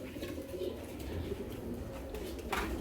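Pigeons in a newly built loft give a low, steady cooing murmur, moderately close and continuous, with no voices.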